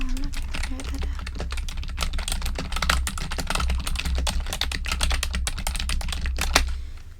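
Rapid, steady typing on a computer keyboard at a medical office check-in desk, dense clicking keystrokes close and clear throughout, with a low background hum.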